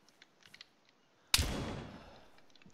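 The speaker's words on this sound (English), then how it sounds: "that was a sniper" A single sharp sniper rifle report in Arma 3 set in Vietnam cracks out after quiet, then decays into a long rolling echo.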